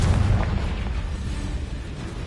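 A Confringo spell blast from the Hogwarts Legacy video game on PS5 erupts as a loud, sustained explosive boom with heavy low rumble that fills the whole moment.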